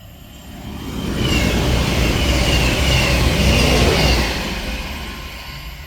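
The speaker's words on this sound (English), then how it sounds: "Also we have a cross-country Voyager passing through." A Cross-Country Voyager diesel train passing through a station on the Manchester branch, a loud rising rumble and rush of wheels swelling to a sustained roar before fading slightly.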